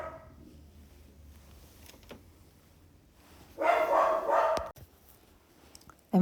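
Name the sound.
dog barking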